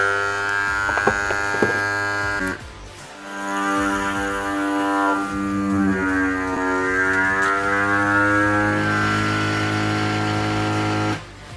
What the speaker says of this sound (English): as the Grabo loses suction with a more porous material, it automatically restarts itself again and stops when it's at a full seal